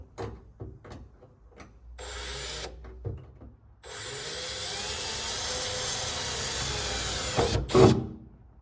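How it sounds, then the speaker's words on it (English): Power drill boring holes in a VW Beetle body for a rear safari window install, a few short taps and bursts followed by a long steady whining drill run that stops abruptly, close and moderately loud. "Drill your holes."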